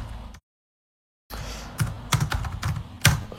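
Typing on a computer keyboard, a run of irregular clicky keystrokes with a few louder taps, close and alone after a short stretch of silence.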